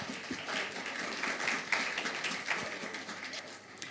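A church congregation claps to welcome members at a youth day Sabbath service, a sustained round of moderate applause lasting several seconds, heard from within the room and slowly fading toward the end.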